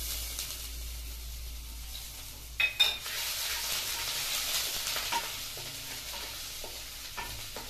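Grated ginger frying in a pan with dried red chilli, five-spice seeds, sugar and asafoetida for a curd and pointed gourd dish, a steady close sizzle with a few sharp utensil scrapes and stirring clinks.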